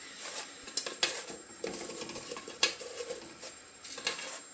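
Nougat being stirred in a pan, with irregular clinks and scrapes of a utensil against the pan coming in bursts, close and moderately loud, with no talk.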